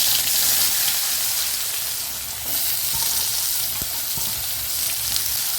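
Onion frying in hot oil with urad dal and asafoetida for ragi upma, a loud, dense sizzle that holds steady throughout, with a few faint utensil taps, near and without voices.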